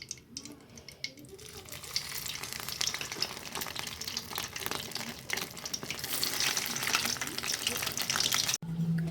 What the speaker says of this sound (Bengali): আমাদের তেল গরম হয়ে গেছে, একটা একটা করে আমরা এবার বেগুন ছাড়বো।